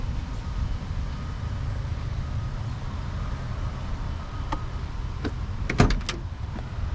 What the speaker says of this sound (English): Doors open and close very nicely on this car.